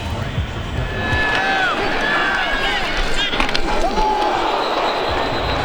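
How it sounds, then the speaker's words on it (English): A college football open-field tackle in a 2021 NCAA game between New Mexico State and Alabama, with the hit lost in a loud, steady stadium crowd roar that swells into cheering as a commentator speaks over it. "We've heard a couple of nice hits in this game."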